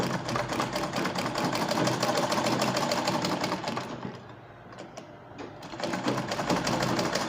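A sewing machine stitches the lining of a peplum top in steady fast runs, pausing briefly in the middle before starting up again, close and alone.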